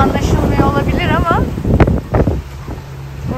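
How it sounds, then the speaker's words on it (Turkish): Strong wind roars across a sailboat on a breezy Turkish coastal passage, a steady loud rush that fills the whole clip while people talk over it. "bayağı rüzgar var"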